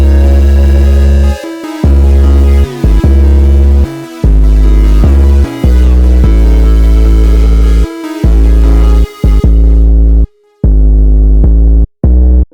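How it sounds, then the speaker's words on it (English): Loud, distorted 808 bass in a jerk-style beat, with a punchy attack at the start of each note and a heavy sustain. It throbs in a choppy rhythm broken by short silent gaps, layered under a bright melody. "And to the melody I also added an 808 that sounds like this."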